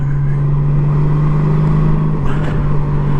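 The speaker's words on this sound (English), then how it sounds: "See, the GOLDWING can still go even with a trailer attached." A Honda Gold Wing motorcycle towing a trailer gives a steady, loud engine drone with road noise, holding an even pitch throughout with a slight shift near the end.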